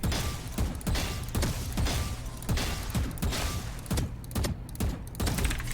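Rapid gunshots from the video game Valorant fire in a steady series of sharp, loud cracks, about two per second, with no voices over them.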